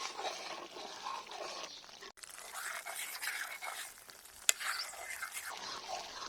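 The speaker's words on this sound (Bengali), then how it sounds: "দেখেন সাইড দিয়ে ঘি উঠতে শুরু করছে। অনবরত নাড়তে হবে।" Milk being stirred continuously in a pot as it cooks down into homemade ghee makes a run of close spoon-scraping and bubbling sounds, with one sharp click partway through.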